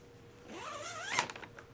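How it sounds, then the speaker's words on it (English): Small zipper on a baby's Christmas-themed sleepsuit being zipped up in one quick rising pull, close and fairly quiet, ending with a brief rattle. "It has a little zipper. Let me try to zip it up."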